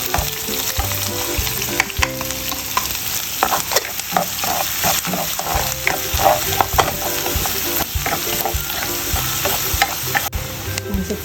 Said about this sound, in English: So let's wait for the garlic to turn golden brown. Now we can add the onion.